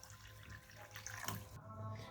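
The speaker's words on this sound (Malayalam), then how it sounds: "ഇനി കുറച്ച് വെള്ളം ഒഴിച്ചിട്ട് കഴുകിയെടുക്കാം" Water poured from a tap or jug to wash cut jackfruit seeds in a kitchen, a soft close splashing and trickling that runs steadily for about two seconds at low volume.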